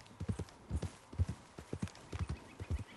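Horse hooves in the video game Red Dead Redemption 2, a rapid rhythmic clip-clop of galloping beats repeating steadily and close, with a faint breathy snort from the agitated horse and no talk.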